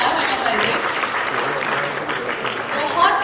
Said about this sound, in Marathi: एकदा जोरदार टाळ्या व्हायला पाहिजे